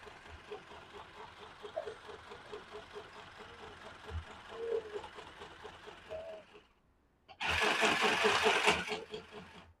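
A mini one-button sewing machine stitches fabric, giving a quiet, rapid rhythmic whirring for several seconds, then a brief pause before a louder, harsher burst of running.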